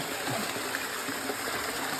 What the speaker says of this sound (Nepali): स्प्रिङ वाटर हो नि त